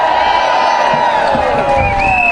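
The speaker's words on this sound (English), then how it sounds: "Another round of applause for Evan, please." A crowd cheers and whoops loudly for a speaker at a political event, sustained shouting voices rising and falling close by, with little distinct clapping audible under the cheering.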